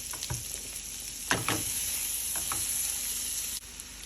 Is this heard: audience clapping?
no